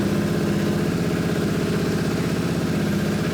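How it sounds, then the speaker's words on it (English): A Yamaha Tenere 700 motorcycle engine idles steadily to warm its oil, a close, even, throbbing hum that continues unbroken with no talk. "I like to run the bike till this internal temperature"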